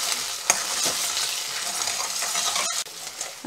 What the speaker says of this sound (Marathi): पुन्हा आपण हे छान परतून घ्यायचं आहे